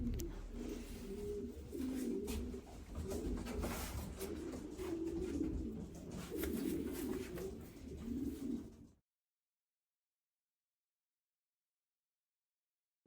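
A racing pigeon held just out of its cage coos in low, repeated throaty rolls at close range for several seconds before the sound cuts to silence; no one speaks.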